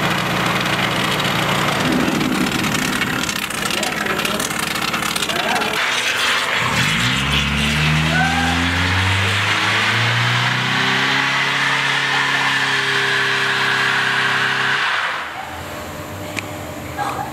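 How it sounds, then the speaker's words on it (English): Car engines revving hard during burnouts outside a shop, a loud sustained roar with rising and falling pitch sweeps through the middle of the stretch, dropping off abruptly near the end over a steady noisy background. "people are out there doing burnouts"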